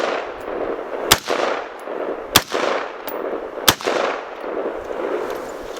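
Three sharp, loud single shots from a Colt M16A1 rifle, evenly spaced about a second apart, each with a ringing outdoor echo trailing into steady background noise.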